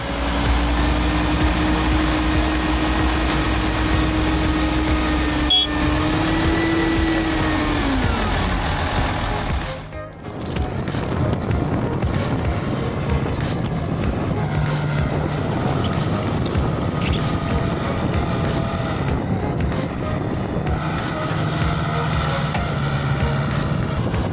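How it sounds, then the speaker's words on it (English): Heavy logging truck engines roar steadily and loudly while the truck is stuck in mud, the pitch rising and falling with revving, with a brief dip before the deep rumble continues. "The engines roar like beasts, but the truck remains stubbornly stuck."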